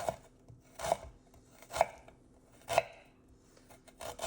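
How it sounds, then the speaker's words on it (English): A knife minces ginger on a cutting board with five sharp, evenly spaced chops close by, about one per second, each with a brief woody knock and no voices. "now we're just gonna mince this"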